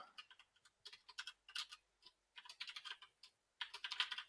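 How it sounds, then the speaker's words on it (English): Rapid typing on a computer keyboard while a database is set up, heard as close, irregular bursts of light key clicks separated by short pauses, with no talking. "This tutorial's got a lot of typing in it."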